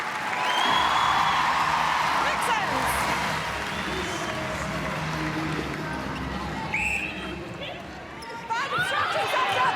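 A huge arena crowd at a professional netball semi-final roars and cheers continuously under a commentator's voice, with ball bounces, squeaking shoes and whistle-like shouts cutting through the broad wash of noise.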